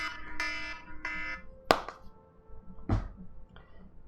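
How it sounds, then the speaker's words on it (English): Morning phone alarm going off at 8:45, a few short repeated electronic tones in separate bursts, fairly close and moderate, mixed with a couple of sharp thuds. "That's my 8:45 alarm."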